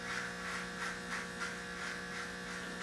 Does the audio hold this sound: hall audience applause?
no